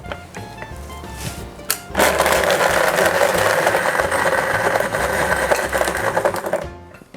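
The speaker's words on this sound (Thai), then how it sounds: "แล้วก็ปั่นให้ละเอียด" An electric blender whirs loudly as coconut milk is blended for a sweet coconut jelly dessert, starting abruptly after a few quiet knocks and running steadily near the microphone before cutting off at the end.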